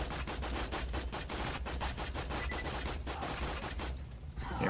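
Rapid automatic gunfire in the video game Borderlands 2, a dense, loud stream of bursts and shots lasting several seconds before cutting off, with no talk over it.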